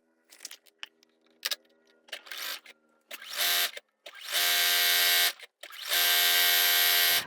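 Sewing machine stitching scrappy quilt strips together, starting with a few short stuttering bursts and then building into longer, loud, steady runs of whirring stitches up close.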